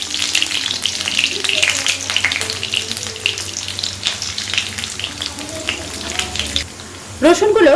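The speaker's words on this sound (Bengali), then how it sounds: "রসুনটাকে একটু গোল্ডেন করে ভেজে নেব।" About ten to twelve garlic cloves frying in hot oil give a steady, close sizzle with crackling bursts. The stirring goes on under it, and a sharp clatter comes near the end.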